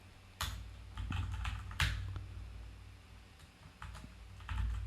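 Someone types code on a computer keyboard, and the keys click in short, uneven bursts with a few sharper strikes. The sound is close and quiet, and nobody speaks over it.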